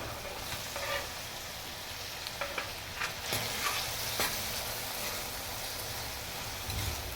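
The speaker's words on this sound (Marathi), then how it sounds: "आता मी हे चांगलं मिक्स करून घेते" Pasta with tomato and onion is stirred in a hot pan, giving steady close sizzling under repeated scraping and stirring strokes, with no talk.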